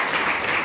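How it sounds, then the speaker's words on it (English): Audience applause at a Bangalore Toastmasters club meeting, a brief dense burst of clapping from a room of people, steady and fairly loud. "that's a big round of applause for almost everyone who came on stage today"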